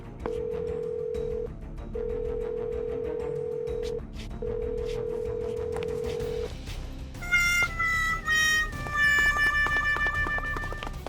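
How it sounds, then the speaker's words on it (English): A phone call in a Minecraft game rings unanswered: three long steady electronic ringback tones with short gaps between them, then a brighter warbling melodic tone sequence, loud and clear with no talk. "Take this phone. You'll need it so you can try calling our wives."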